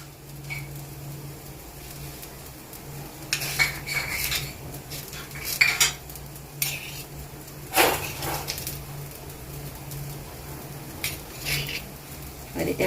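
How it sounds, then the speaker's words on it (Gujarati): Masala filling is spread over a dosa in the pan: a spoon scrapes and taps against the metal in irregular clinks over a faint, steady background hum. "હવે આ રીતે આપણે આમાં મસાલો લગાવી લઈશું"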